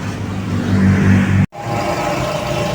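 A Toyota 2E/4AF engine is revved while ignition timing is checked, its steady mid-range drone holding loud and close before a brief dropout, then returning slightly smoother.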